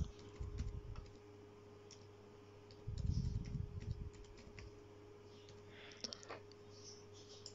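Computer keyboard typing text into a shape in MS Word, heard as two short clusters of close, quiet key clicks over a steady low electrical hum, with no speech.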